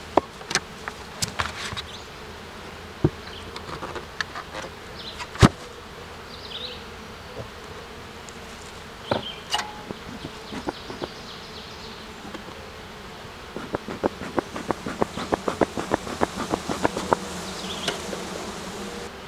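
Honeybees at an opened hive buzz in a steady drone, with close individual bees zipping past and a denser burst of near passes toward the end, and no talk.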